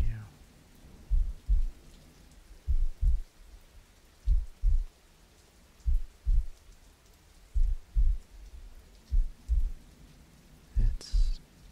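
Steady soft rain hisses faintly in the background while a close, low heartbeat thumps in regular paired beats throughout.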